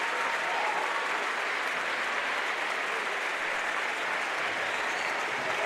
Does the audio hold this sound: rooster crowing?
no